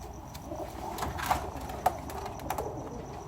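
Teddy breed pigeons coo softly at close range, low repeated murmuring calls with a few brief sharper notes over a quiet background.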